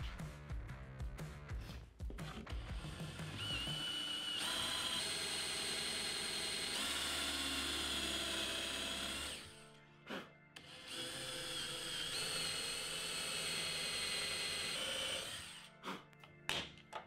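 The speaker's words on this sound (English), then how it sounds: "use a two-step bit to create our pilot hole" A power drill with a two-step bit bores a pilot hole into a wooden shelf, its motor whining in long sustained runs, pausing briefly around the middle before spinning up again, with short bursts at the end.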